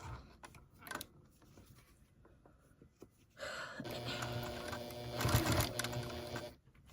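A Juki sewing machine runs at speed for free-motion quilting on a baby girl quilt, a rapid mechanical stitching whir lasting about three seconds after a few quiet handling clicks, then stopping.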